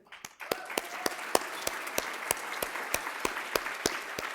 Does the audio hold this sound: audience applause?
yes